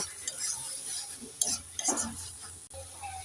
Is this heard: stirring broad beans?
yes